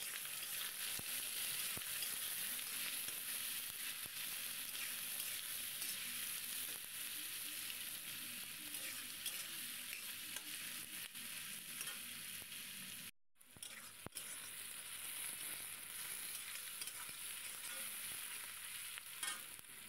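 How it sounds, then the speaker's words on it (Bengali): Onions fry in a pan until browned, producing a soft, even, continuous sizzle heard from close by, with a brief dropout part way through before the frying hiss resumes. "পেঁয়াজটা বেশ লাল লাল করে ভেজে নিচ্ছি।"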